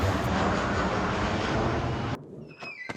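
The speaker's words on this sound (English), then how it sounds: "I saw a plane." Airplane passing overhead, a loud steady broadband engine roar that cuts off abruptly partway, leaving quieter faint ambient sounds.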